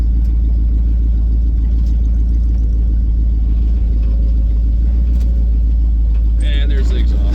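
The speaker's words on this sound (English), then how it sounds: "And there's the exhaust." A car at a car show idles with a steady, deep exhaust rumble close by while people talk over it throughout.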